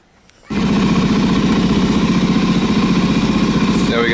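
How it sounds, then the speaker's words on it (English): A 2014 Suzuki DRZ400SM motorcycle engine starts after a short quiet moment and settles into a loud, steady, close-up idle with an even rhythmic putter. "Now we got the bike running."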